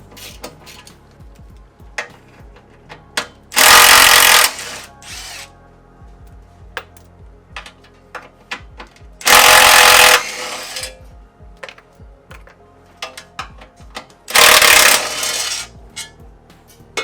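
Impact wrench breaking loose three 12mm bolts on a transmission crossmember skid of a Toyota 80 Series, three loud rattling bursts a few seconds apart with small metallic clinks and handling noises in between.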